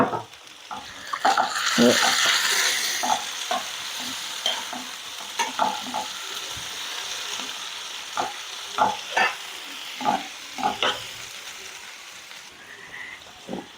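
Tomatoes, slit green chillies and curry leaves sizzle and fry in a pan, with a steady hiss broken by repeated scraping stir strokes throughout, close and fairly loud, with no talking.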